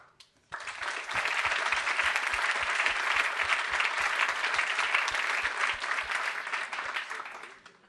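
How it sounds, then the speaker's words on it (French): A theatre audience at an award evening breaks into steady, even applause, dense clapping rising quickly and holding strong for several seconds before starting to thin. "je pense qu'on pourrait applaudir Pierre Soulages"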